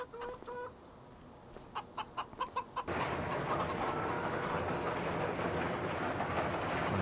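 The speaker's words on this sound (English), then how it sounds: "I'm going to check my chickens right quick." Chickens clucking inside a warm barn in Farming Simulator 25: a few short, close clucks and squawks in quick succession, then cut off by a loud, steady wash of broadband ambient noise that carries on to the end.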